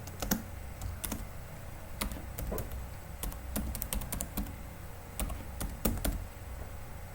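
Clicky keys on a computer keyboard are typed in quick uneven bursts and single taps during an operating-systems lab exercise. The sound is close and steady with no talking.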